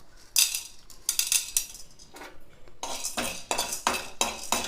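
Split chickpeas (chana dal) are dry roasted in a pan without oil, making repeated loud rattling and scraping bursts as the lentils and spoon clatter against the metal.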